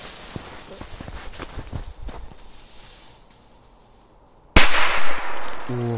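A sharp, loud firecracker blast goes off once in snow after a few seconds of faint outdoor shuffling, followed by a brief rumbling echo.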